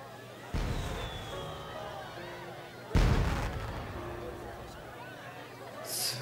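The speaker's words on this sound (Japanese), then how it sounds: "だべってないで花火見るか" Fireworks burst during a festival scene in the Japanese dating-sim video game Kiniro no Corda 3 (La Corda d'Oro 3): two deep booming blasts a couple of seconds apart with crackling decay, heard over soft game music.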